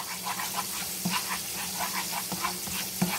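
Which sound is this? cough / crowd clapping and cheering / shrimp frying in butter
shrimp frying in butter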